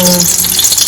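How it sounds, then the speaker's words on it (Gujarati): Small whole baby potatoes dropped into hot oil for a dhaba-style curry, giving a loud, steady bubbling sizzle that fills the short moment, close and continuous with no talking. "તેમાં જે આપણે નાની નાની બટેટી લીધેલી છે તેને તળી લઈશું"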